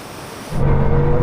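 A Bugatti Chiron Super Sport engine surges as it accelerates from a roll in second gear during a manual-mode rolling race, a deep droning roar that swells suddenly and holds loud and close.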